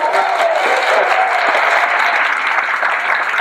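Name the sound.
audience applause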